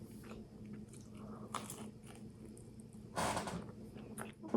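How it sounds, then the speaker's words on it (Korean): Close, quiet bites and crunchy chewing of canned saury eaten with bread, a few soft crunches and scrapes spaced over a low background hum. "꽁치 통조림이랑 빵이랑 같이 먹는 느낌?"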